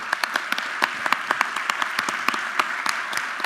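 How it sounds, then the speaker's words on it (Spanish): An audience at the 2024 Eureka! live science event in Mexico breaks into steady applause, many hands clapping in a dense, even patter that continues throughout, with no speech over it. "Un aplauso para él."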